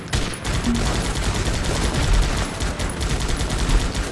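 Dense, sustained gunfire in the video game Guns Up!, a loud, unbroken rattle of overlapping shots and bursts lasting several seconds with no talk.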